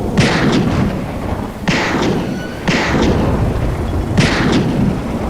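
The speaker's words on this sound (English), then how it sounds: "Firing off 4 slugs in the vague direction of a silhouette." Four heavy gunshots fired in an audio drama, evenly spaced booming blasts with rumbling tails over a dense stormy background, loud and close with no speech.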